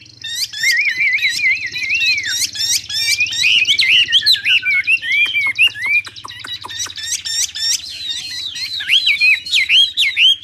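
A hwamei songbird sings close and loud, a rapid varied stream of whistled warbles, trills and sharp chirps in bursts with brief pauses, continuing throughout with no talk.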